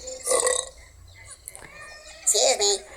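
A cartoon bird in the preschool game Lazoo Zoo lets out a loud, comic belch. A shorter voiced sound follows, and a child-like voice speaks between the noises.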